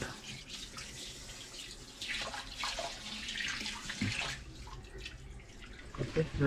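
An open pipe runs water into a turtle tank, a quiet steady gush and splatter that swells slightly midway, with no talk over it.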